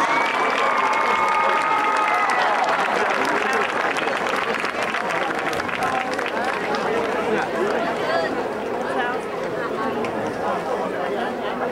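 Crowd at a North Stanley high school homecoming applauding the queen and her court with their escorts; sustained clapping mixed with chatter and scattered voices throughout, fairly loud and continuous.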